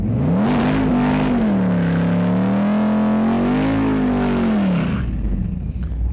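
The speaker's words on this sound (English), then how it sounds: "I think this time I'll open the exhaust too, so it'll be a little louder." A 2010 Dodge Challenger drag car with open exhaust revs up at launch and holds a high, wavering whine for several seconds before dropping off, loud, close and continuous.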